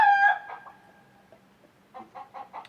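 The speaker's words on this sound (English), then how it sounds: "I got the chicken stirred up with a grinder. They like to holler." Chickens clucking and hollering after being stirred up by a grinder: a loud squawk opens, then scattered clucks and a burst of rapid clucking near the end, fairly close.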